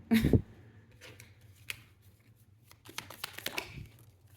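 Deck of tarot cards being cut and handled, a sharp riffle of card edges at the start followed by scattered soft slides, taps and shuffling rustles, close and fairly quiet.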